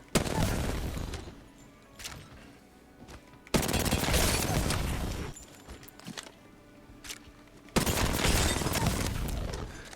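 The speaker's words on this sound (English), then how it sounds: "Now we do the same thing with the R99 to warm up with that weapon" R99 submachine gun fired at a practice target in Apex Legends, three loud sustained bursts of rapid automatic fire separated by short pauses with quieter movement and a few single shots between them.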